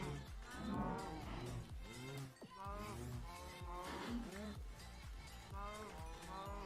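Several cows moo in Minecraft, overlapping low drawn-out calls repeating steadily and fairly close, with a voice talking quietly underneath.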